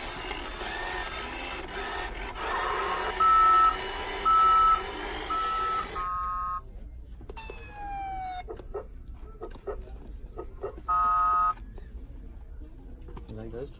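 A toy truck gives three evenly spaced electronic reversing beeps, moderately loud against a busy shop background, followed by more synthetic chirps and sound effects later on.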